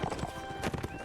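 Horse hooves clip-clop at a rapid gallop with a brief whinny in the Mount and Blade video game, continuous and fairly close over about a second, with no talk.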